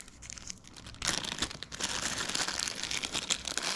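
Close crinkling of a small plastic bag being opened during an electric tire pump unboxing, quiet rustling at first, then a louder sustained crackle of handled plastic.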